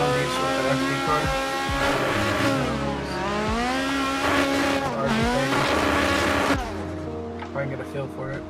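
A drift car in a driving video game on the Long Beach track revs and wails with rising and falling engine pitch and bursts of tire squeal, loud and continuous, then dropping off as power cuts near the end.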